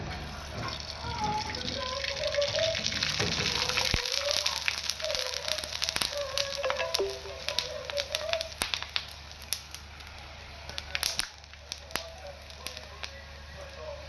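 Kurdai, a crisp rice or wheat snack, fries in hot oil with a steady crackling sizzle and scattered pops throughout, while someone talks over it.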